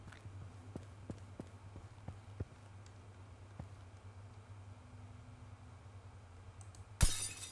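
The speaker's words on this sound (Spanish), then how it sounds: "Oh, perfecto, era un vidrio." Glass shatters once in The Final Station video game: a sudden bright crash near the end, after a long stretch of low steady hum and faint scattered ticks.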